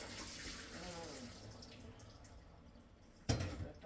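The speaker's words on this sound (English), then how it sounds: "Got the water out of the potatoes." Hot water from boiled potatoes poured off into a kitchen sink, a soft running splash that tapers away, then a brief louder clatter near the end.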